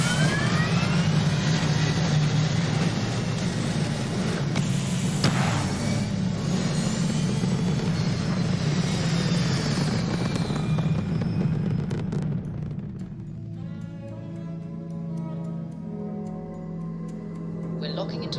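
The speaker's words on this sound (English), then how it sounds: "Let's get this crate into space. Liftoff looks good." A spaceship lifts off in the video game Starfield with a loud, dense engine roar that rumbles for about twelve seconds, then thins to a quieter hum with faint electronic tones.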